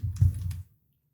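Brief burst of typing on a computer keyboard on a Windows PC, a quick cluster of soft clicks lasting about half a second, close and fairly quiet, then silence.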